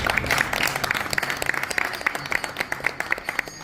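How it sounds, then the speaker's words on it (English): Audience applause at an evening community gathering honoring a fire chief and council member: steady mid-sized clapping that thins toward the end, with faint voices underneath. "So give yourselves a round of applause."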